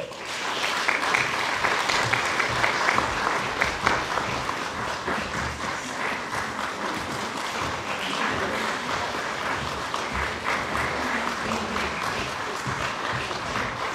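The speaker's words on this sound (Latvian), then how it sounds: "Aplausi!" A crowd applauds steadily at a stage speech contest awards ceremony, dense clapping that stays even and fairly loud throughout, with no one speaking over it.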